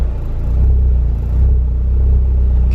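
A Volkswagen MK6 Golf R turbo engine idles with the clutch pressed, giving a steady, loud, low rumble that holds even throughout, with no voices.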